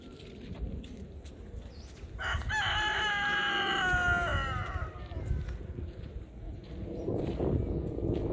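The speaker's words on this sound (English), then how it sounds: "Look at all this big chicken." A rooster on a farm crows once, a loud drawn-out call lasting a couple of seconds, amid scattered clucking from other chickens nearby.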